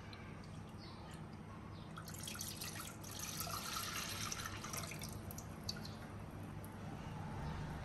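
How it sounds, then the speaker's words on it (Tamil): Strained date liquid, about 600 ml, is poured into a cooking vessel, a soft trickling splash that swells in the middle and tapers off, faint and close. "நான் இதை அந்த பாத்திரத்துல ஊத்திக்கிறேன்."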